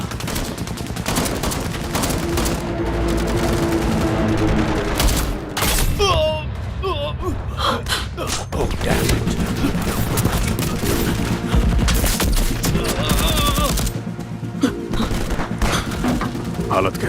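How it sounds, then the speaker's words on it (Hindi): Battle gunfire from a war film: dense bursts of machine-gun fire and rapid shots ring out almost nonstop and loud, with brief lulls, a few booms and shouted voices mixed in. "फायर कर रहा हूं।"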